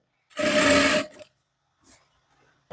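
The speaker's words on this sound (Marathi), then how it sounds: "सरळ आपल्याला एक शिलाई मारून घ्यायची आहे" A sewing machine stitches a strip onto the side of a blouse in one steady whirring run of under a second, close and loud, followed by faint handling sounds.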